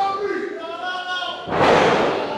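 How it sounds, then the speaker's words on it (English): A wrestler's body slam lands with a heavy thud on the ring mat during an independent wrestling match, a sudden broad impact with crowd noise following a commentator's voice. "Big body slam."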